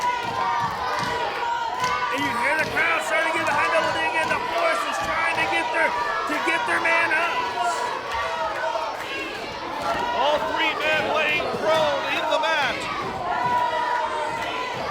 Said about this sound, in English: you hear the crowd starting to get behind Double D again